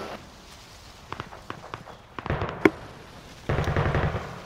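Distant gunfire during a Call of Duty Modern Warfare match, scattered faint pops followed by denser bursts of rapid shots, with a sharp crack near the middle and a sustained stretch of firing at the end.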